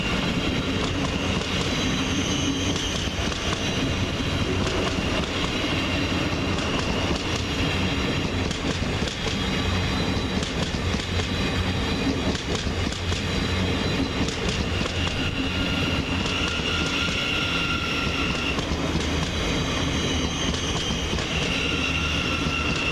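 A Thameslink Class 700 electric train rolls into Peterborough station, with a continuous loud rumble of wheels on rails, clicking joints and faint squeals running through the whole passage.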